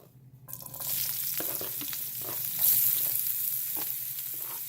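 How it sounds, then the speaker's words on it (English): Green chili and chopped ginger sizzle steadily in hot oil after a brief quiet start, with occasional stirring scrapes rising over the constant frying hiss. "once the oil is heated, I'm going to go ahead and put some green chili and some chopped"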